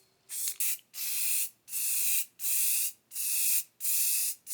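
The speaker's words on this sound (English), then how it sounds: "I'm going in with Oil Rub Bronze by Behr spray paint" Behr Oil Rub Bronze spray paint applied to plastic skulls, five loud, sharp hissing bursts of about half a second each, separated by short silent pauses, close to the can.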